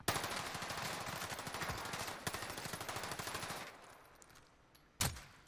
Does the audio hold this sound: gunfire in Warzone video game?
yes